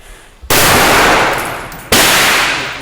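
Two loud, sharp sniper rifle shots crack about a second and a half apart in Battle of Marawi combat footage, each followed by a long ringing echo that slowly fades.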